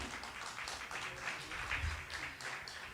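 Audience applause at a Woman's Month concert, a steady wash of clapping hands with murmured voices mixed in, fairly even in loudness for a few seconds.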